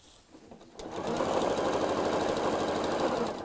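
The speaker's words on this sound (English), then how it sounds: "so just make sure that you're sewing in a straight line." A sewing machine stitches a fabric dust cover. It starts after a brief quiet moment and then runs as a steady, loud, close whirring drone.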